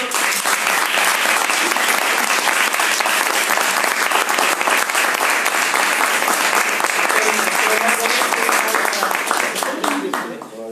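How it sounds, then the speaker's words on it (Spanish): An audience at a talk in Chile breaks into loud, sustained applause: dense, even clapping from a large crowd that carries on for about ten seconds before thinning out. "Un gran aplauso a Héctor."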